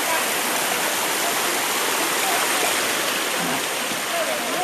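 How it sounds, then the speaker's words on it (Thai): Steady, broadband rush of a waterfall, loud and close, continuous throughout with no breaks; faint voices may sit beneath the roar. Tharn Thong Waterfall, Khiri Rat Nikhom, Surat Thani, Thailand. "เนี่ยในน้ำตกนะครับ"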